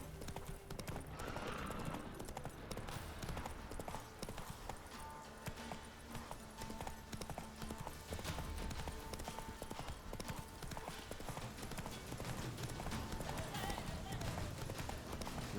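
Horse Roach gallops in The Witcher 3, a steady rapid clip-clop of hooves running on through the whole stretch under game music and ambience, with a voice talking over it.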